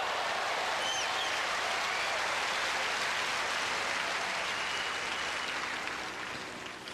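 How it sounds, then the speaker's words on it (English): Spectators at the 1994 New Haven tennis semifinal between Becker and Stich keep up a broad, steady wash of crowd applause, loud and sustained, tapering slightly at the end. "Stich sportingly applauding a very, very good reflex forehand return of serve"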